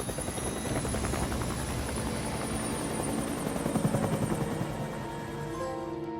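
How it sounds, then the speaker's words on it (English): Helicopter takes off in the video game Days Gone, its rotor throbbing loud and continuous with a whining engine tone and no voices over it. "I then made my way to the bike to see the chopper also taking off"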